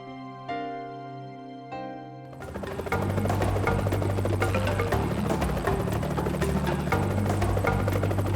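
A helicopter rises after a few soft musical notes, its rotor and engine settling into a loud, steady, rhythmic thrum as it flies over Ol Pejeta to locate and dart an elephant herd's ringleader.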